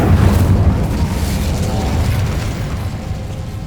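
An Incendio fire spell cast in Hogwarts Legacy produces a dense roaring whoosh with a heavy low rumble, loud and close at the onset and slowly easing off, with no other sounds over it.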